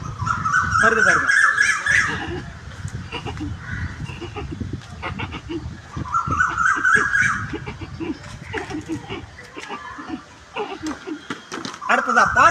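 A person imitates a pigeon with breathy cooing and warbling calls, repeated in a few bursts with pauses between them, fairly close.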